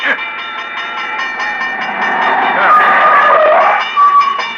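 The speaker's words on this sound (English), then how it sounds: "There's a train coming." A loud, steady train horn blares with a rumbling roll underneath, swelling slightly as it passes close by.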